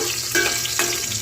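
Food sizzles and fries in a pan during home cooking, a brief steady hiss with a couple of soft stirring scrapes, close and moderately loud.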